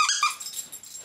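A dog lets out a couple of high, whiny yips close by that fade into a soft whimper, brief and alone with no talking.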